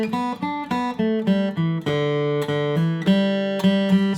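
Guitar playing a Go Tell It On The Mountain phrase in straight, even eighth notes, clean plucked notes and chords ringing close and clear in a steady, unswung rhythm without any speech.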